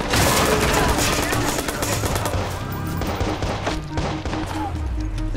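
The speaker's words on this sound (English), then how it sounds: "This is a great gunfight." A gunfight in Watch Dogs brings dense, loud bursts of rapid gunfire that roll on without pause, with thuds and impacts layered through the barrage.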